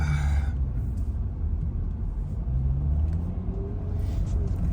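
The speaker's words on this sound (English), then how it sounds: "Oh, that's a big truck coming." A big truck passes along a city street in Brest, Belarus, its deep engine rumble loud and steady throughout, building slightly near the end, with no talk over it.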